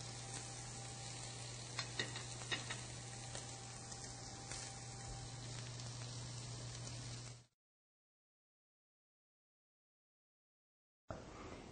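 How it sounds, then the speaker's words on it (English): Food sears on the grill of a professional oven with a steady, close sizzle and crackle for about seven seconds, then cuts to silence before the sizzling briefly returns. "Now you can see that nice searing effect."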